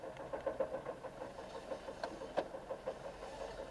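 A 2007 Saturn Ion engine cranks and runs on a cold start, a rhythmic chugging with uneven pulses and a knocking character, moderately loud with no talk.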